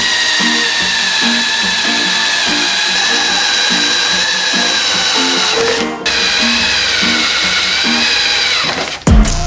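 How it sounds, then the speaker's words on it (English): A power drill bores holes through a metal fabrication piece, its steady whine running nearly continuously with a rhythmic low grinding pulse, a brief pause near six seconds, and a clunk as it stops at the end. "So the last thing we got to do is just drill holes for the top here"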